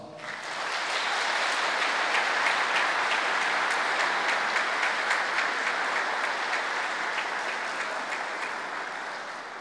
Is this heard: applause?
yes